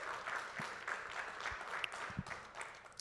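An audience at an arts talk applauds quietly, a soft, fairly distant patter of clapping that holds steady for a few seconds.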